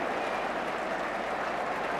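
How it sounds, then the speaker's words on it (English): A dense wash of football crowd applause and cheering at Craven Cottage during Fulham v Spurs, steady and continuous throughout the short stretch. "Applause ringing round Craven Cottage."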